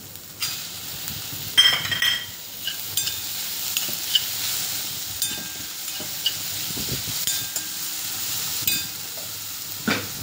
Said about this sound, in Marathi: कांदा छान परतला की त्याच्यामध्ये आपल्याला टोमॅटो टाकायचा आहे।